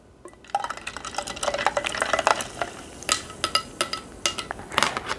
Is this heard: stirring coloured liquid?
yes